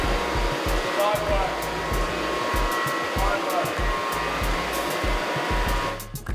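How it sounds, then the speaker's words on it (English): A floor grinder works a concrete garage floor, a loud, steady motor whine with a rough pulsing drone underneath that runs continuously, then drops off briefly at the very end. "So Matt even got involved and had a go on the grinder."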